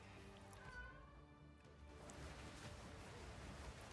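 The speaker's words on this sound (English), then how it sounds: "My cat is making some weird fucking noises." A cat gives a few strange, strained meows and low yowls over steady background hiss, faint and a little distant.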